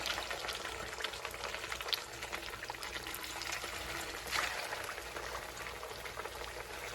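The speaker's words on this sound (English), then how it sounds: "now we're gonna add our tortillas to our oil that we had heating up" Corn tortillas sizzle in hot oil in a pan, a steady, dense frying crackle with scattered pops. It is fairly quiet and close, with no speech over it.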